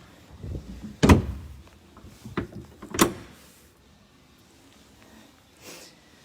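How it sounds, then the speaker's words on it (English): On a Valhalla V33 boat, a door shuts with a sharp close thump, followed by a second louder bang about two seconds later and a few softer knocks, then quiet. "Step out and shut the door."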